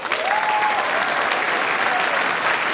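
Audience applauding sponsors at a jazz concert, sustained dense clapping from a crowd that holds steady throughout, with a faint voice murmuring beneath it.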